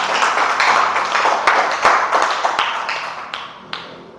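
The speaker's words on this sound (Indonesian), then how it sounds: "coba berikan tepuk tangannya, Nak." A classroom of students clapping their hands together in a quick, irregular burst of claps, close and fairly loud, gradually thinning out toward the end.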